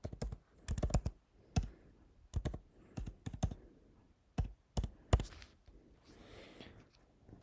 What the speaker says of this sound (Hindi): सर्च में आपने लिखना है india.diplo.de